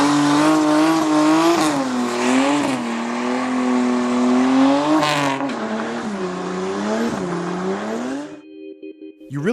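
A 400 hp turbocharged BMW E30, garage-built, revs hard through several rising gear pulls, its loud engine note climbing and dropping at each shift before cutting to near silence, then a brief turbo whistle and a final rev at the end.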